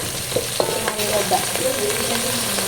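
Potatoes frying with onions and spices in a pan for Telangana-style pappu charu, a constant near sizzle with several sharp taps and scrapes of a spoon stirring against the metal.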